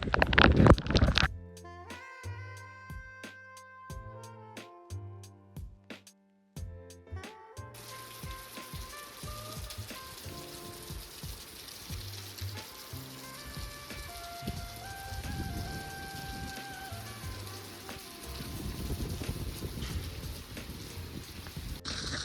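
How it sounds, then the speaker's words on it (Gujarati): Heavy monsoon rain pours down in a steady, dense patter, preceded by a few seconds of tinkling musical tones before the downpour fills everything. "તો મિત્રો અત્યારે વરસાદ જોવો તમે, પાણીના દંડુડા થાય છે"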